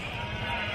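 Sheep at the Angallu sheep market bleating in one short, sustained, loud cry close by, with no talk.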